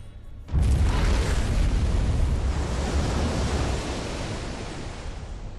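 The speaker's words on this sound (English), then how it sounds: "the first thing we'll see is the ship exploding" A ship explodes in Splinter Cell: Double Agent, a sudden loud, deep blast after a near-silent moment, then a heavy roaring rumble that slowly fades but keeps going to the end.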